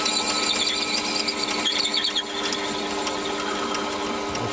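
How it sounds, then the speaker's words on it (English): Continuous high whirring scrape of a mini lathe boring aluminium with a boring bar, a steady motor whine with shifting metallic cutting tones, loud and close. "we'll have to do it the old-fashioned way with a boring bar"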